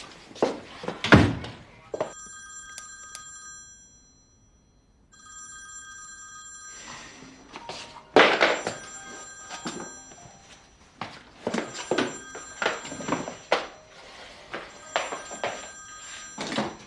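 An office telephone rings in an urban drama scene, with repeated bursts of electronic ringing separated by short pauses, mixed with occasional thunks and handling knocks, close and clear.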